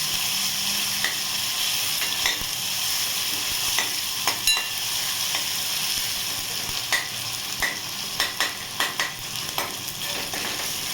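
Ingredients for a drumstick curry are sautéed over a high flame, with a constant loud hiss of frying broken by repeated spatula scrapes and taps that grow more frequent toward the end.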